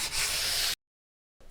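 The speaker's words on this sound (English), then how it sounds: "it's always a good idea to go back in and give it a light sanding" A short, scratchy stroke of sandpaper lightly rubbing primed wooden furniture, a pause of silence, then the rubbing faintly starts again.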